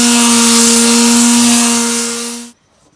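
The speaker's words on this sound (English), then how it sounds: "So I'm starting to cut my boards here, and after each cut, I'm sanding them with 80 grit sandpaper" A power tool cuts wooden boards for a custom display shelf, a loud steady whine with a strong hum that runs alone for about two and a half seconds and then abruptly stops.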